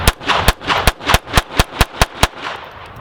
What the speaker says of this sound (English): So now we're gonna try some high velocity ammunition. This is CCI Velocitor.